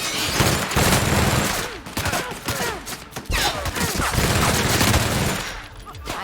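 Rapid bursts of gunfire from a weapon in The Outer Worlds video game rattle out loud and close in dense automatic volleys, with short pauses between them and a voice speaking briefly over the shooting.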